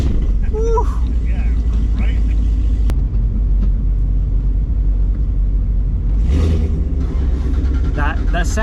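A modified Mazda Miata with over 400 horsepower on a canyon run rumbles with a deep, steady engine drone throughout, while people talk over it close by.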